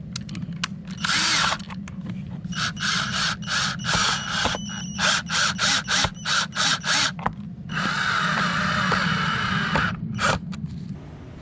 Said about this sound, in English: you're gonna drill it like this